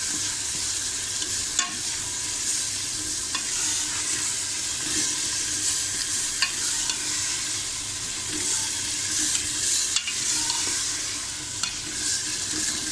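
Minced meat keema is stirred with spices in a hot pan, a steady close sizzle broken by repeated scraping stirs every second or two, with no talking.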